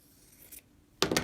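Scissors snip through extra quilt fabric in a few quick, close cuts that come near the end after a soft rustle, with no talking.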